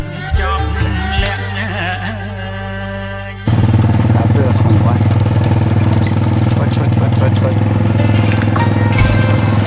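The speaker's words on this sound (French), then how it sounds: "nous allons utiliser un véhicule local composé d'une moto tirant une sorte de remorque" A local Cambodian vehicle, a motorcycle pulling a trailer, runs with a steady mid-pitched engine drone that rises sharply after a few seconds, loud and continuous with road rattle, as if close by while riding along the road.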